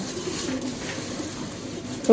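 Soft cooing of Khaki pigeons eating wheat close by, a low continuous murmur of several birds with faint background noise and no speech.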